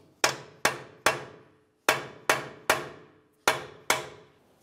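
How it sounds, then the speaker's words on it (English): Hammer blows on a punch driving a truck axle free from its wheel bearing on a 2005-2010 Dodge Dakota: eight sharp metallic strikes with ringing decay, in uneven groups with a short pause, close and loud. "Use a hammer and punch to break the axle free from the wheel bearing"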